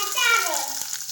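Curry leaves hitting hot oil for upma, producing a loud, close burst of crackling sizzle that holds steady throughout.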